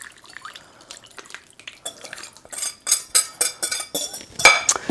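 Liquid is poured over a Field Roast in a casserole dish, with irregular splashes and drips growing denser and louder, a few clinks of the dish mixed in, close by and without talk.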